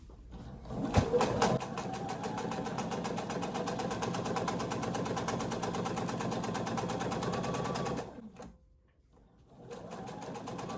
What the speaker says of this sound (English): you go ahead and sew this next seam to the next corner